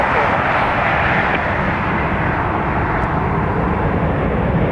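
Airliner jet departing Dublin Airport, a loud, continuous broadband engine roar close by that holds steady throughout with no break.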